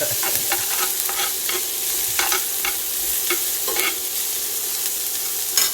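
Peppers, jalapenos and onions fry in a pan for LA style bacon-wrapped hot dogs, a dense continuous sizzle with repeated short scraping stirs, close and steady, no talking.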